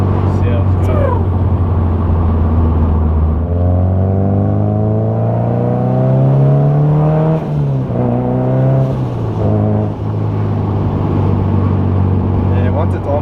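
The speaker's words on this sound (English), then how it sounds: "now the turbo's starting to sound good" A turbocharged car engine revs on boost, its steady drone climbing in pitch and falling back several times. The sound is loud and continuous from inside the moving car.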